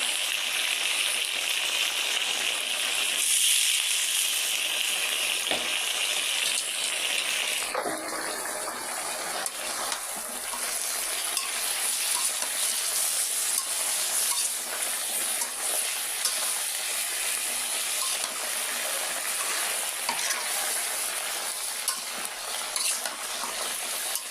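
Lentil dumplings (bori) fry in oil on a gas stove, giving a steady loud sizzle throughout with faint scraping and stirring sounds mixed in.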